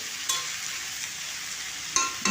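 Julienned bottle gourd tossed with salt in a pan, a steady soft sizzling hiss with a couple of brief scraping stirs, no voices.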